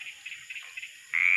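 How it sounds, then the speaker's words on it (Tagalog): Small frogs caught in a rice field give brief, faint chirping croaks in a quick series, ending with one louder, sustained trill. "ito po yung nahuli naming mga maliliit na palaka"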